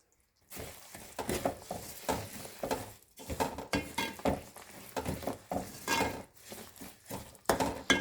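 A spoon stirs laddu mixture through hot ghee in a pan, giving repeated scraping, sizzling strokes in an uneven steady rhythm, close and clear with no talking.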